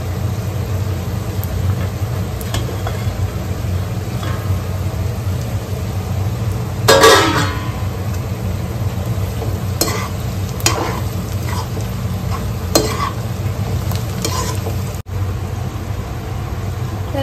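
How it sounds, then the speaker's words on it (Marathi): Onion and capsicum sizzle steadily in a pan, a constant frying hiss with occasional scrapes and stirring clatters, plus a brief louder rustle partway through. "थोडंसं गोल्डन ब्राऊन होतपर्यंत कांद्याला शिजून द्यायचं आहे. आता आपण ह्याच्यात कॅप्सिकम ऍड केली आहे"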